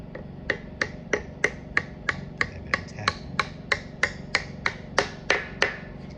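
About seventeen crisp metallic taps ring out at a steady rhythm, close and distinct, as a loose piston in a vintage Howard V-twin engine is tapped back down.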